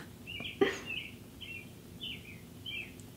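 Birds sing outside a window, giving a few scattered faint chirps over a low indoor hum, with one brief sharp knock near the start.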